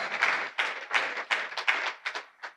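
Scattered audience clapping at a faith talk, a few bursts of hand claps in uneven waves, fairly faint and close, without speech.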